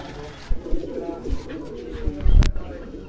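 Pigeons cooing close by, soft low throaty coos in a few irregular bursts, with a sharp brief noise near the end.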